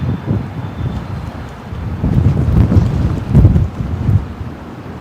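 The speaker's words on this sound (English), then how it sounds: "When the wind picks up the camera, it just sends it upwards." Strong gusts over 35 knots buffet a camera microphone at Brisbane Airport, producing loud, low rumbling wind noise that swells and surges throughout, with no talking.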